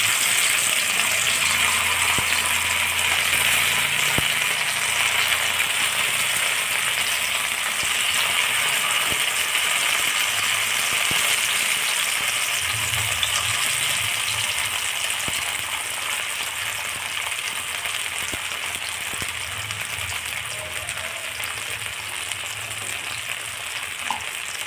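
Potato slices fry in hot oil with a dense, steady sizzle that stays loud and even throughout, occasional soft bumps beneath it, no talking.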